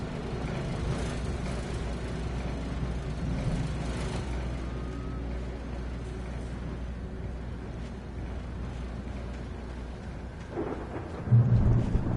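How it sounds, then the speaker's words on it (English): Thunderstorm in the video game Alan Wake Remastered, a dense low rumble of rain and rolling thunder throughout, swelling into a heavier boom near the end. "The storm raged on"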